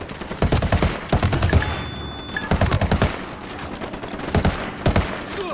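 Gunfire in the video game Ghost Recon: Wildlands, with repeated bursts of automatic rifle fire and scattered single shots, loud and close, in several clusters.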